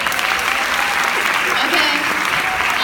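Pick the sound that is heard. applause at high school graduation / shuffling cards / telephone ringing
applause at high school graduation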